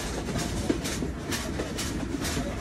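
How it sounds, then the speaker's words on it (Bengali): The Sundarban Express pulls out of Mobarakganj railway station, its carriages rumbling with steady clickety-clack over the rails, loud and continuous from on board. "তো আমরা ডিপার্চার নিয়ে বেরিয়ে যাচ্ছি মোবারকগঞ্জ রেলওয়ে স্টেশন।"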